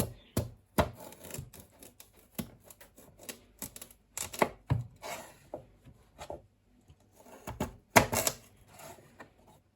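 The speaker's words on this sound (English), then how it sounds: "So I'm going to just quickly cut my potatoes." A knife chops sweet potatoes on a cutting board, loud close taps landing in quick irregular runs with short pauses between them.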